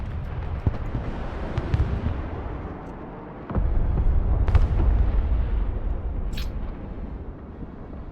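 Missile strikes exploding in the Broken Arrow war game, a rumbling sequence of deep booms and sharp cracks, loud and close, with a heavier blast landing midway and a roar that slowly fades.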